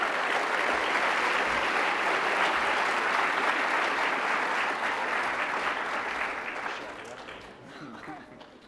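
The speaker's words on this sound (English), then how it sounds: "Please give Nick a nice round of applause as he helps work through this." Audience applause at an education award night, steady and dense before fading away over the last few seconds as a voice begins.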